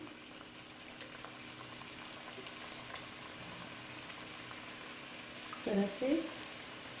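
Chicken spring rolls go into hot oil in a home kitchen, making a soft, steady sizzle and bubbling that swells briefly near the end. A person talks over the frying.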